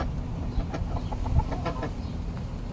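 A hen clucks softly among farm animals in a backyard garden, with short intermittent clucks over a low, steady background hum, with no talk.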